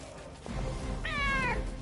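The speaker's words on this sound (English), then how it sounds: "Who's the mad kitty?" A cat gives a single drawn-out meow, close and clear, over a low background hum after a brief soft sound.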